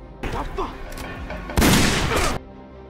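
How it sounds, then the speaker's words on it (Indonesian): A police officer opens fire partway through, a loud, dense rapid volley lasting under a second, following a stretch of background voices and commotion. "Tiba-tiba, seorang polisi melepaskan tembakan."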